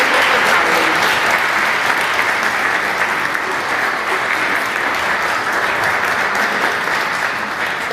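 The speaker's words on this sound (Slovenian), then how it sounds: "Tako da dajmo sebi en aplavz" An audience at an exhibition opening of the Posavski muzej Brežice gives sustained, dense applause that stays loud and even, with no voices over it.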